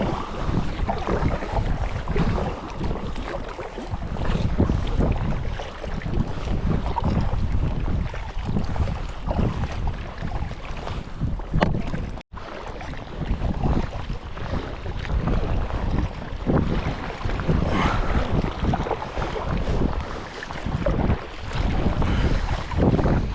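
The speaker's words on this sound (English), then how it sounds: "It's, the wind swirled." Strong wind roars steadily on open water during a sea-kayaking trip in the remote Knoydart wilderness of Scotland, loud and continuous with heavy microphone buffeting, gusting throughout with one brief dropout midway.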